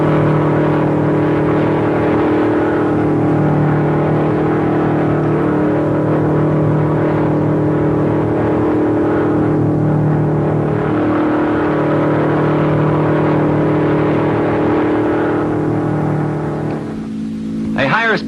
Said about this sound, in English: The car is running like a fine watch, and hopes are high that this will prove to be a day of great accomplishment for the MG.